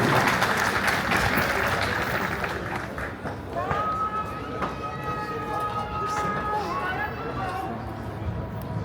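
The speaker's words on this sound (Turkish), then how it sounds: "Avcılar Belediye Başkanımız Sayın Utku Caner Çaykara'yı alkışlarla sahneye davet ediyorum" An audience claps steadily to welcome the Avcılar mayor onto the stage at a municipal event in Esenyurt, dense applause that thins out midway as a few cheers and voices rise over it.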